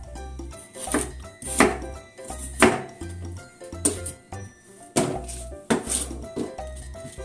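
Knife chopping spring cabbage into bite-size pieces on a board, a series of sharp close thunks in uneven rhythm, roughly a dozen cuts with no talk.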